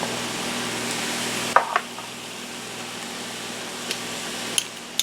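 Okra and pepper frying in olive oil in a pan, a steady broadband sizzle running throughout, with a few sharp utensil clicks and taps against the pan, no talking.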